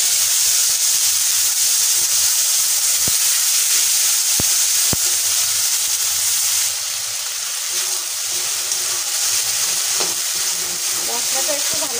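Ground spice paste sizzling and frying in hot oil with whole cumin for Bengali egg curry; a steady, loud, close hiss with a few scraping stirs.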